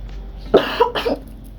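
Two quick, harsh coughs sound close by, one right after the other, against a quiet background hum.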